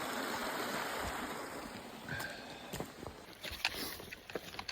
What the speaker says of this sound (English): So I got to a river crossing.